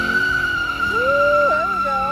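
A car does a burnout at a gathering of modified cars, its tires squealing in a wavering, pitch-sliding whine over a steady engine roar, loud and close throughout.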